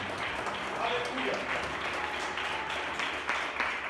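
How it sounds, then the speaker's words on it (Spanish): Applause from a church congregation during a worship service, a soft, continuous patter of clapping with voices mixed in underneath. "Denle un aplauso hermoso y fuerte para el Señor"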